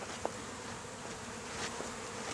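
A honeybee swarm buzzes around its queen during a hive relocation in Spring, Texas. The steady, close droning hum comes with a few sharper passes of individual bees flying near.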